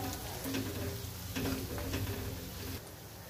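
Turmeric, red chilli powder and spices sautéing in a hot pan for a Marathi varan phal dal dish, a steady close sizzle and frying crackle with occasional stirring scrapes, no talking.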